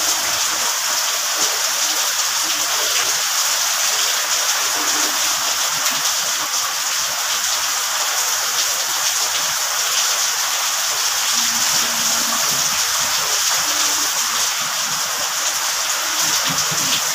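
Heavy rain during a storm, a loud, steady broadband hiss of downpour that continues unbroken throughout with no speech over it.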